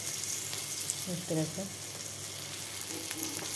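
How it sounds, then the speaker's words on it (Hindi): Ground chana dal and rice batter fries in hot oil with a soft, steady sizzle and crackle throughout, while someone speaks briefly over it. "इसको डायरेक्ट इसमें फ्राई करेंगे"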